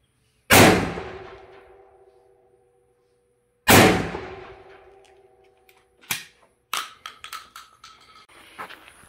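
Boito ERA 2001 12-gauge over-under shotgun with a 28-inch barrel firing SG buckshot outdoors: two loud, sharp shots a few seconds apart, each with a long ringing decay, followed by several smaller clanks and knocks.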